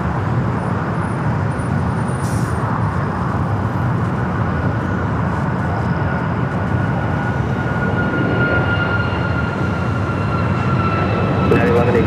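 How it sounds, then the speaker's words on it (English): A United Boeing 737 MAX 9 takes off at LAX with a loud, continuous jet roar that holds steady and broad throughout, close and unbroken. "Next takeoff is a flight to Denver, United flight 1912, a 737 MAX 9."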